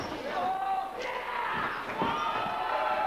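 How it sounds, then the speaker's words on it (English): A wrestling arena crowd yells and cheers at a televised NWA show, a lively mass of shouting voices close and steady. A few sharp thuds punch through the din. "propping up the crowd at the NCW arena"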